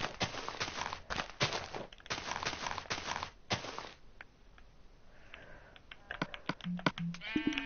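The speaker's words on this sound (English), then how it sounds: "Right, I'm coming back with an extra sheep." A sheep in a video game bleats near the end, after a run of sharp footstep-like clicks and thuds, with a few shorter bleats and rustles close by.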